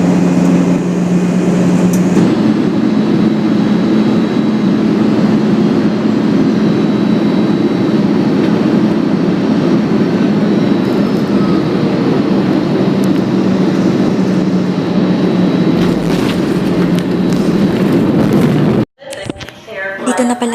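A steady, loud, low drone of airplane engines fills the cabin during the approach to landing, and cabin announcements are heard over it. The drone cuts off sharply near the end.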